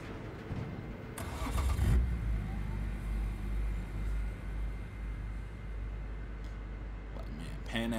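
A car engine starts and keeps running in the Cyberpunk 2077 video game, with a steady low rumble throughout and a brief louder burst near the start. Voices talk over it.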